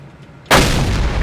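A VK 30.02 M tank cannon fires once in World of Tanks, a sudden loud blast after a quiet start, followed by a long, heavy rumbling decay.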